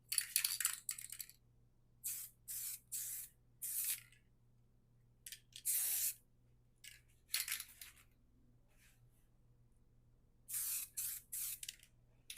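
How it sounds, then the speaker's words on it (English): Weld-through primer is sprayed from a can onto rusty sheet metal on the back of a 1979 Ford F100 cab in a shop, in short separate hissing bursts with quiet gaps between them. "I'm fixing to put some of this weld through primer on it and let it dry overnight"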